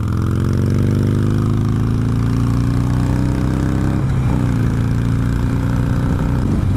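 Motorbike engine being throttled: a loud, close engine drone whose pitch climbs steadily, then wavers and dips briefly midway before holding, with no voices.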